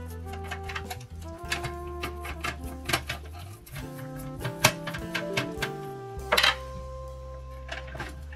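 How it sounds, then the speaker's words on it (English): Small screws are backed out of the laser scanner unit on a Canon i-SENSYS MF3010 laser printer, giving a run of close, sharp ticks and clicks with steady mechanical hum underneath. "Remove screws."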